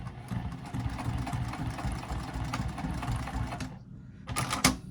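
A sewing machine backstitches a seam on a small triangular pyramid pouch, a continuous low mechanical whir that stops abruptly, followed by a couple of sharp clicks.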